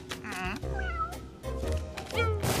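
A cartoon cat meows in a series of plaintive, drawn-out cries, close and clear, with short pauses between calls.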